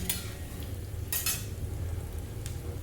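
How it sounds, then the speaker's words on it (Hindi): Boiled potatoes fry in hot oil in a kadai, producing a soft, low sizzle broken by a few brief scraping clinks from a utensil stirring them. "पहले आलू को फ्राई कर लेती हूँ, जो आलू को मैं पहले बॉईल करके रखी थी"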